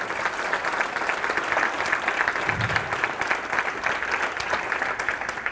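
Audience applause for food producers at a 2009 conference dinner, steady and continuous clapping from a sizable crowd throughout, moderately loud and even in level.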